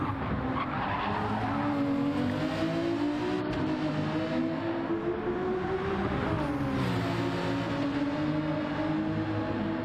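Race car at full push in the 24 Hours of Nürburgring endurance race, engine droning loud and close with shifting pitch as it works through corners, tires hissing and scrubbing throughout with no talk.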